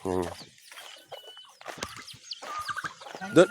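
Plymouth Rock chickens on a small farm give a short run of clucks close by, with people talking over them.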